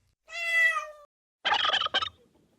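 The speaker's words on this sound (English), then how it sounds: "Turkey," A turkey gobbles in a quick rattling burst with a second short gobble after it, close and loud, following a separate high tonal call.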